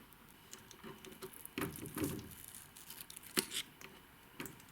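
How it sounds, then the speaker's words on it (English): Stickers are peeled off old wooden shelves in a quiet room, giving soft sticky tearing and patter sounds in short bursts with gaps between them. "Here's a little bit of ASMR while peeling off the stickers"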